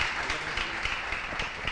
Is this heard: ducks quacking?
no